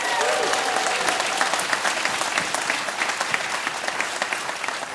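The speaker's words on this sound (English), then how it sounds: "Give him a round of applause." An audience gives a sustained round of applause, dense steady clapping from a room full of people at moderate level, with a voice briefly audible at the start.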